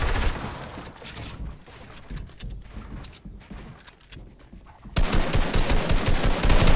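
Rapid automatic gunfire rattles through a first-person shooter match, with dense bursts of shots that dip briefly in the middle and then return louder and more intense toward the end.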